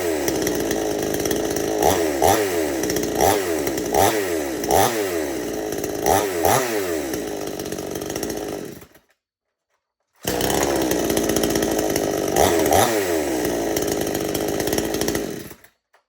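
A modern chainsaw runs loud and close, its engine revving up and down in a repeated rhythm, then drops into a short silence before running steadily again.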